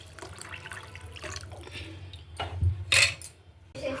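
Hot rasam, a tangy South Indian soup, is poured into a pan of spice tempering, giving brief splashes and sizzling bursts with soft clinks of cookware in a quiet kitchen.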